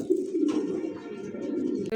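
Close, low pigeon cooing repeats in soft rolling throbs, steady throughout the short stretch, with faint background chatter.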